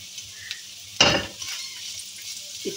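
Chopped carrots and onions fry in a pan with a soft steady sizzle, broken by a sharp clatter of a utensil stirring against the pan, close by and without talk.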